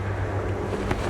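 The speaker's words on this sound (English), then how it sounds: "The wind." Wind gusting through a tense Zenless Zone Zero video game cutscene, a steady broad whoosh with a low rumble underneath and a brief swell near the end.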